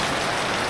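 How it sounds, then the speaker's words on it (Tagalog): Steady hiss of rain falling near a mangrove area, a dense, even wash of drops with no voices. "inabot na tayo ng ulan"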